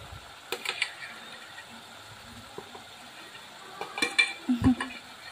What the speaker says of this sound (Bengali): কিছু সময় আমি কষিয়ে নেব মশলাগুলো।